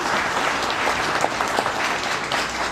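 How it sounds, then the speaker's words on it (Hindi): An audience at a live session claps together in a brief burst of dense, steady applause, moderately loud throughout with no talk. "आपने ताली बजानी है, बिना ये देखे पड़ोसी ने ताली बजाई कि नहीं"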